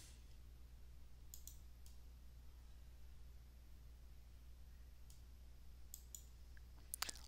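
A computer mouse clicks a few times during a quiet stretch of software work: two pairs of sharp, faint clicks early on, scattered single clicks later, and a quick cluster near the end over low background hiss.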